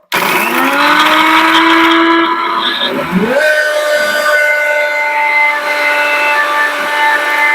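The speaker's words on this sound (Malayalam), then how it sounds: "മിക്സി ജാറിലേക്ക് ഗ്രൈൻഡ് ചെയ്യണം" A mixer grinder whirs loud and steady as it grinds garlic and dried red chillies for a dry coconut chutney, its motor pitch dipping and recovering midway before running on.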